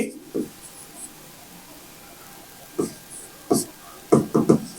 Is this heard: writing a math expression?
yes